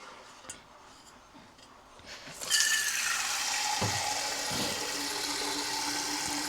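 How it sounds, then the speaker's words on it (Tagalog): Tap water splashes into a container for watering a houseplant, starting abruptly and then pouring steadily with a bright hiss, with a few faint clinks beforehand. "Lagyan muna natin siya ng tubig"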